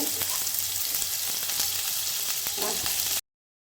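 Carrot, capsicum, beans and garlic frying in a hot pan for chili chicken, a loud, dense, steady sizzle that cuts off abruptly into silence near the end.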